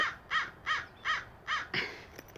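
Crows caw repeatedly, five or six harsh calls in a steady rhythm, moderately distant and fairly faint, with no talking.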